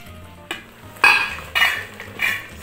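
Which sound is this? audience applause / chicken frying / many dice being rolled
chicken frying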